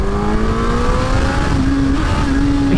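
Honda CB1000R motorcycle engine revving hard in second gear on full power mode, a loud, close, continuous rising drone that climbs steadily in pitch with a brief shift midway and no talk.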